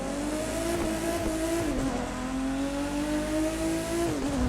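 TVR Sagaris with a race build in The Crew 2, its engine droning steadily at high revs with slight pitch shifts and a faint tire squeal, heard close and loud with no voices.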